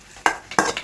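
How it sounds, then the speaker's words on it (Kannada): Hot oil sizzles as a tempering of onion and curry leaves goes into the pan for a sambar, in two quick, bright crackling bursts close by. "ನೋಡಿ ಫ್ರೆಂಡ್ಸ್, ಇವಾಗ ಒಗ್ಗರಣೆ ಹಾಕೊಂತಿದ್ದೀನಿ."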